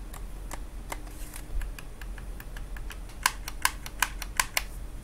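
Light plastic clicks from the triggers of a Turtle Beach Recon game controller, sparse at first and then a quicker run of sharper taps near the end, close and fairly quiet against a faint background hiss.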